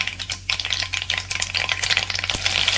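Mustard seeds and curry leaves crackle and spit in hot oil for a tadka for Konkan-style cabbage and chana dal bhaji, a dense run of sharp close pops over a steady hiss, with a faint low hum underneath.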